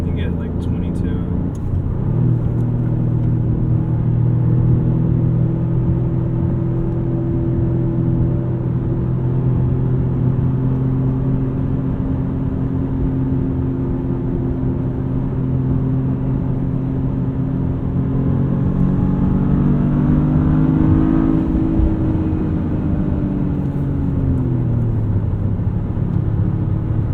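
A 2025 Toyota GR Corolla rumbles while driving, its engine holding a low, steady drone from the cabin. The pitch rises briefly near the end. People talk throughout.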